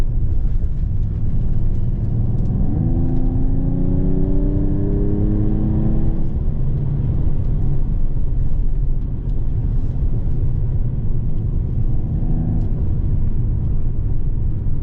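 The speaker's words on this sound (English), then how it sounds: "Love how aggressive it sounds. Don't be mistaken, it's got some pops." A 2024 Mercedes-AMG GT 43 4-Door Coupe engine rumbles close by, revving up in a rising whine midway before settling back to a steady growl, with exhaust pops.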